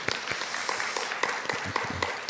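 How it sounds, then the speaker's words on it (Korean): Church youth congregation applauding at a Sunday young adults' service, a steady patter of many hands clapping at moderate distance for a couple of seconds, a few sharper individual claps standing out. "우리 감사와 찬양의 박수, 그리고 서로를 격려하는 박수를 올려드리겠습니다."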